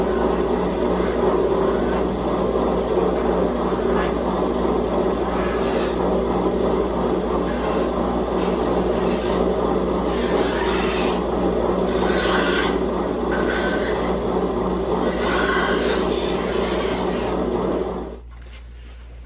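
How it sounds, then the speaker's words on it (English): A knife blade is held against a grinder for a steady, loud abrasive rasp that runs continuously with slight shifts in pressure, then cuts off abruptly near the end, leaving a quieter motor hum. "Now we're going to turn around and go to the other grinder."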